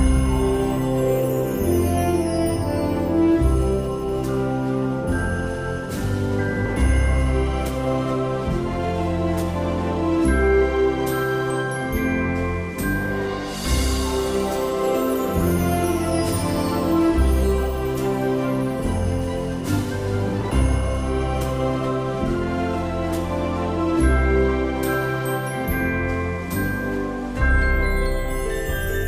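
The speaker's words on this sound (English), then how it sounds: "that is what we believe is the Christmas menu music" Holiday-themed menu music from the video game Overwatch plays steadily on its own, with layered instruments, tinkling bell-like accents and a continuous festive melody at even loudness throughout.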